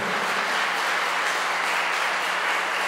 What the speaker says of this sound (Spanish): Den un aplauso, Señor.